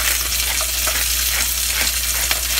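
Shrimp sizzling over high heat in a pan, a dense, continuous close-up hiss with small crackles and light scraping throughout, no voices.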